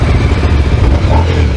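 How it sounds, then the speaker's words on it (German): Loud, rumbling motorcycle engines start and run close by, a dense low throb with a rough, steady texture. "Ja, Motoren starten."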